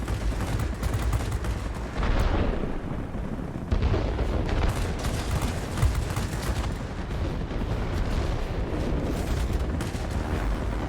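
Bomb explosions and rolling blasts in the World of Warplanes video game, a loud, continuous roar of booms and gunfire-like crackle running for around ten seconds with no speech.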